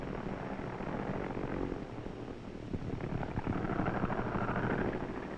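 A carrier plane approaches the aircraft carrier deck for landing, its propeller engine droning steadily and loudly, swelling slightly as it draws nearer, with no voices over it.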